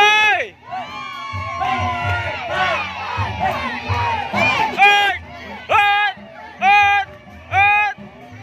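Spectators at a kuda lumping performance shout and cheer in repeated loud bursts of voices, rising and falling in waves between brief lulls.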